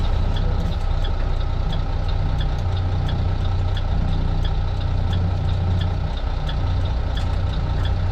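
A truck engine with an Eaton transmission runs at a steady, loud low rumble while being throttled to speed shift gears, with little change in pitch and no speech.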